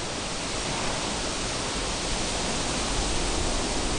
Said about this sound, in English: You can still hear the ocean